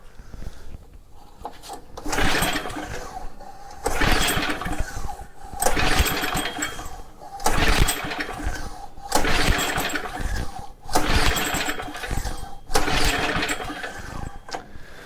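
A Troy Bilt rototiller with a Briggs & Stratton engine, which is failing to start, is pulled repeatedly on its starter cord: about seven loud, evenly spaced ratcheting bursts that never catch into a running engine, and no voices.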